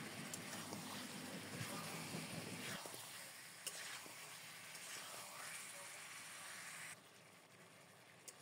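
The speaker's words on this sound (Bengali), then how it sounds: "আলু কুচিগুলোকেও দিয়ে এরপর খুব ভালো মতো একসাথে নাড়িয়ে ভেজে নেব।" Chopped potatoes are stirred and fried in a pan for a desi-style masala chicken dish, giving a faint continuous sizzle with scraping stir noises throughout and no talk.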